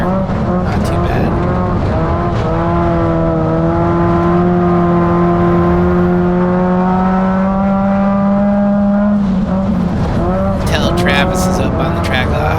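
Race cars in a heat race on a dirt speedway, a loud sustained engine drone that rises and falls as the cars circle, with talk over it.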